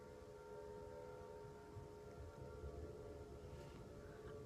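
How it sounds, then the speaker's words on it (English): Civil defense sirens sound a tornado warning during a storm as a faint, steady, sustained wail far in the distance, heard alone with no voices. "Can you hear the sirens?"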